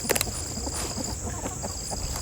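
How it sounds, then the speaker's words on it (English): A rooster clucks in a chicken coop with a few short, soft clucks scattered over a steady background hum, fairly faint and with no talking. "We do still have some roosters in here."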